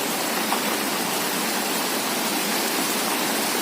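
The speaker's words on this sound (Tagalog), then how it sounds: "Ang lakas po talaga ng baha, tingnan nyo." Floodwater rushing during Typhoon Dante, a dense, unbroken roar of moving water that holds steady and loud throughout, with no voices.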